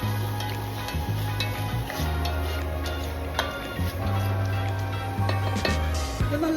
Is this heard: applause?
no